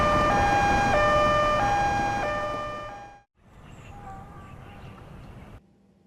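An ambulance siren wails loud and close with a steady two-tone cycle, then cuts off abruptly and returns fainter and more muffled, as if heard from farther away.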